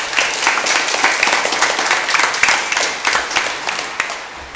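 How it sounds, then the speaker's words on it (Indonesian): A church congregation at a children's Christmas Mass breaks into sustained applause, a dense, loud wash of many hands clapping together that continues throughout without pause. "Kita tepuk tangan untuk mereka semua."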